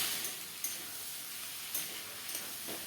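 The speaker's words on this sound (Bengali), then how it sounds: "আলু আর শিম একটু নেড়ে নেড়ে ভেজে নিচ্ছি" Potatoes and beans fry in a pan under a soft, steady sizzle, with a few light scraping taps as they are stirred, heard close but quiet.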